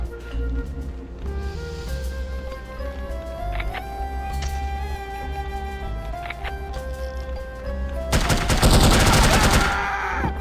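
Gunfire in the video game The Operative: No One Lives Forever bursts out in a loud, rapid volley near the end, after a stretch of tonal game music and scattered faint clicks.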